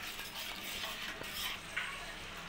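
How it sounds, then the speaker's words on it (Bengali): A cornflour slurry being stirred into rohu fish manchurian gravy in a pan over a high gas flame, a steady soft scraping and swirling with faint sizzle throughout, a few light utensil clinks near the end, no talking. "এবার আমি ভালোভাবে নাড়িয়ে নেব।"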